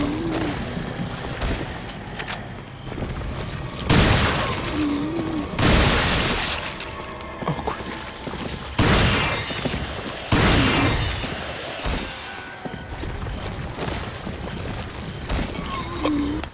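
Shotgun blasts in Resident Evil 4 HD, several loud sharp bursts spaced a second or two apart over a busy game backdrop of shattering and scuffling, with occasional grunts.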